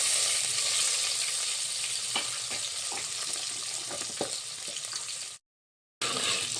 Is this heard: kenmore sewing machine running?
no